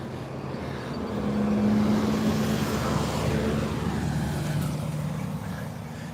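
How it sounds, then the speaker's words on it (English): A green bus drives past on a road during a Sunday walk to Punto Cerritos, its engine rumble swelling then fading, with a low steady hum under broad traffic noise. "Another green bus coming around."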